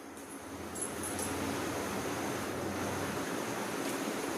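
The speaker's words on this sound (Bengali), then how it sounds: "ছাঁকনিতে এটাকে আমি ছেঁকে নেব" Boiled rice is strained through a sieve in a kitchen, giving a steady, broad rush of pouring and draining water that runs unbroken at a close, even level, with no talk over it.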